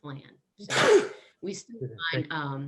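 A single sharp sneeze bursts out loud and close during a town finance committee meeting, with someone speaking briefly before and after it.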